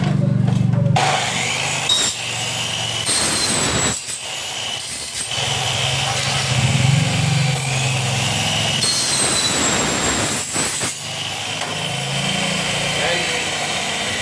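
A power tool, a hand planer or grinder, cuts wood from a door edge in loud bursts separated by short pauses, with someone talking between cuts.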